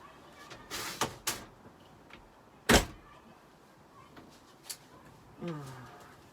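A door bangs in strong wind with several sharp knocks and one loud slam, set against gusty background noise, and people talk briefly.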